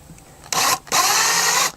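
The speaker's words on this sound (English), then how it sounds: "drill that bottom hole" A power drill whirs loudly in two bursts, a short one then a longer steady run, boring a hole through the bottom of a plastic bucket with a grinding buzz.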